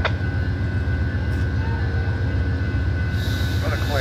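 The Amtrak California Zephyr passenger train, number 5, passes Fort Morgan with a continuous heavy rumble and rolling noise held at a steady level throughout.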